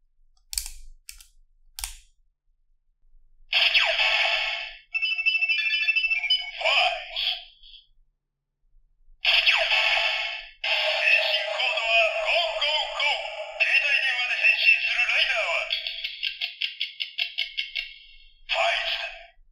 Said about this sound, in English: Let's test out their sound effects in chronological order, starting with Kamen Rider Faiz from the year 2003